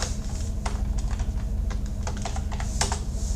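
Quick clicking keystrokes on a computer keyboard, close and crisp in short uneven bursts as a command is typed, with a low hum beneath and no speech.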